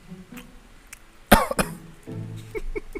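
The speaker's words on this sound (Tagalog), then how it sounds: "May ubo din ako." A single sharp cough cuts through a quiet room, followed by a second smaller burst, with faint background murmur and low movement sounds around it.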